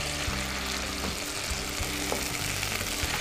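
Onions with balsamic vinegar fry in a hot pan for a potato salad, a constant loud sizzle over a low steady hum, with faint occasional stirring knocks and no voices.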